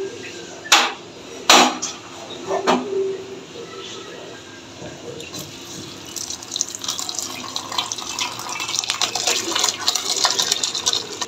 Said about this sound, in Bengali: এখানে গরম জলের মধ্যে রাখলে বেশি সিদ্ধ হয়ে যাবে, এই কারণে আমি ছানাটা ছেঁকে নিব।